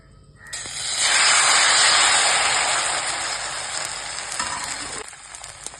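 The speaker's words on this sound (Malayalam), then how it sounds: "അതിലേക്ക് ഞാൻ ഈ അരപ്പ് ഒഴിച്ചു കൊടുക്കാൻ പോകും" Appam batter poured into a hot uruli greased with coconut oil sizzles loudly, the hiss swelling sharply after a brief quiet start, holding strong, then easing off near the end with no talk.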